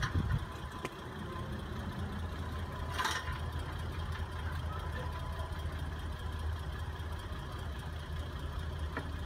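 A vehicle engine idles at low volume during a tailpipe exhaust emission test with a mobile analyzer, a steady low rumble with a brief rattle near the start. A person talks over it.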